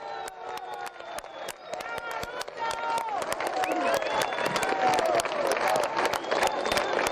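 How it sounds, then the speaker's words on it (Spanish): Audience applause at a police headquarters building inauguration in Cobija, Bolivia, crisp clapping that builds from scattered to dense and loud over several seconds, with a voice briefly heard early on. "Fuerte los aplausos, por favor"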